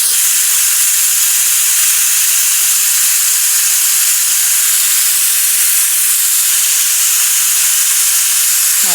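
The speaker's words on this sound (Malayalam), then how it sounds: "കുക്കർ വിസിലടിക്കാൻ വേണ്ടി ഇങ്ങനെ തയ്യാറായിട്ടിരിക്കുന്നുണ്ട്. ഇപ്പോൾ വിസിലടിക്കും കേട്ടോ." A pressure cooker hisses steam in a continuous loud, even rush, with no distinct whistle blast standing out.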